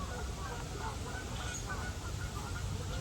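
Geese honking in a busy, overlapping flock, steady and continuous with a low rumble of background noise underneath.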